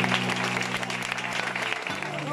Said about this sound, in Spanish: Aplauda fuerte al Señor si puede esta noche.